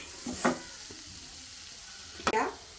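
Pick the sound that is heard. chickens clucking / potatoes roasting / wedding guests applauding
potatoes roasting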